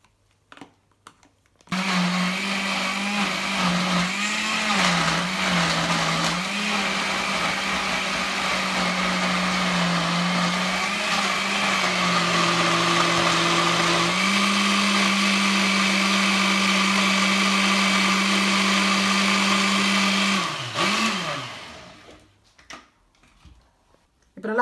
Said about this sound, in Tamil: இப்போ திருப்பி அரைக்கலாம்.